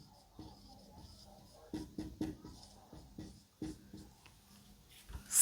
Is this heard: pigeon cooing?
no